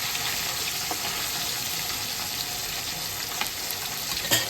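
Hilsa fish sizzles in hot oil after being flipped in the pan, a steady close crackling hiss with a few brief spatters and pops, and no voices.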